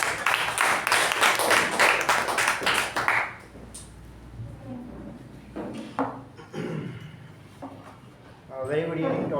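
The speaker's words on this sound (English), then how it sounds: "With a huge round of applause," Applause from a Toastmasters meeting audience welcoming a speaker: a dense burst of clapping for about three seconds that fades, followed by quieter room sounds and a voice beginning to talk.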